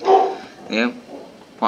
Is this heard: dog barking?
yes